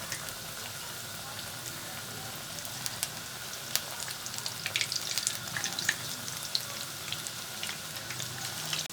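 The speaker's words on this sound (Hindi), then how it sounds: "तो यहाँ पर एक कढ़ाई में घी हमारा अच्छे से गर्म हो गया है और अब हम पकौड़ों को अच्छे से फ्राई कर लेंगे।" Chicken pakoras deep frying in hot ghee in a kadai, a continuous bubbling sizzle with scattered pops and crackles throughout, moderately loud with no talking.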